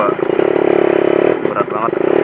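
A Yamaha F1ZR motorcycle pulls away in second gear, its engine laboring in a close, steady pulsing drone that wavers slightly as the revs strain and dip.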